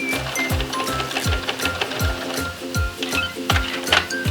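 A sewing machine stitches through fabric scraps with a fast, steady mechanical clatter of regular needle strokes, close and alone.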